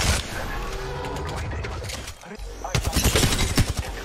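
Rapid gunfire in the battle royale shooter Apex Legends: a steady layer of game noise breaks into a dense run of close, sharp shots near the end.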